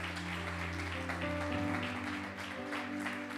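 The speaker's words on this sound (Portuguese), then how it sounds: "Você pode aplaudir a Jesus nessa hora, igreja?" A church congregation claps in sustained, dense applause over held organ or keyboard chords, filling the room evenly.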